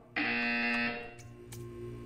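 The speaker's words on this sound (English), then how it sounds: "You will hear a buzzer." A loud, steady electronic buzzer tone from the art-viewing test chamber in the Portal 2 video game, sounding alone for about a second before cutting off, followed by fainter background hum and soft effects.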